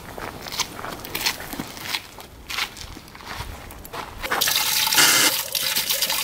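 Water gushes from a tap of a village-style fountain that fills a pool on a university campus. Footsteps and faint rustling come first, then a loud, steady, splashing stream starts about two-thirds in and keeps running.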